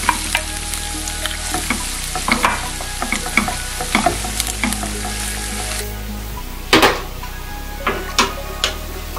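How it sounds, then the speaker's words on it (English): Onions sautéing in a pan as the base for a coconut cream sauce for fish, a steady close sizzle broken by scattered utensil scrapes and knocks against the pan, with no speech. "we're gonna saute our onions till they're translucent"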